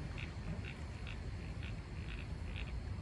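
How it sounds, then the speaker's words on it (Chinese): Frogs call at night beside a dry fountain at the Kaohsiung Grand Hotel, faint repeated croaks pulsing every half second or so over a steady outdoor hum. "青蛙"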